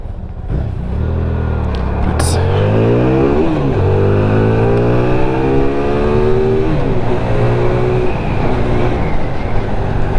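A Hyosung Aquilla GV300 V-twin bobber revs up loud and close, its engine pitch climbing and dropping through repeated accelerations and gear changes, with slightly jumpy, snatchy low-speed fueling and steady road noise throughout.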